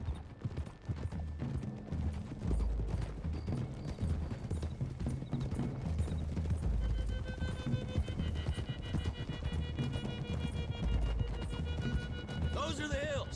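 Several horses gallop in a Red Dead Redemption 2 video game, their hooves drumming in a fast, steady clip-clop under a voice and music, moderately loud throughout.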